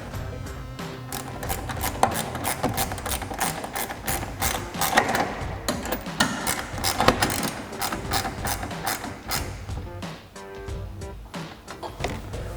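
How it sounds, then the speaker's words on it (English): A 10mm ratcheting wrench tightens a headlight bolt on a 2014-2015 Silverado 1500, giving close, fast irregular clicking and metallic rattling over continuous handling noise. "Grab our 10mm ratcheting wrench and tighten that down."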